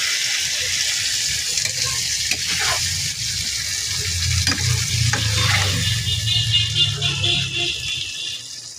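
Cumin and chili paste sizzle and fry in a hot pan, a loud continuous hiss with stirring scrapes and knocks, close up, swelling in the middle and easing slightly at the end.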